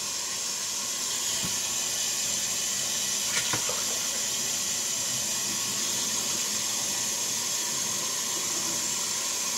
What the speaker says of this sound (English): So I'm going to add about a total of 8 or 10 cups of water.